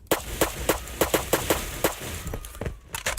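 Saiga-12 shotgun shots in a video game, about ten sharp blasts fired in quick succession at a fairly even rhythm, loud and close.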